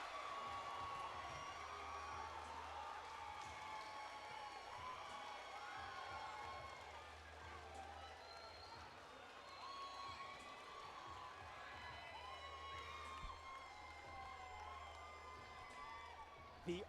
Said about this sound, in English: And the crowd is going crazy right now.